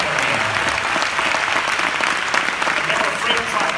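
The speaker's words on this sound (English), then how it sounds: "Let's applaud that man." Audience applause fills the room, a steady dense wash of many hands clapping at close range, continuous and even from start to finish.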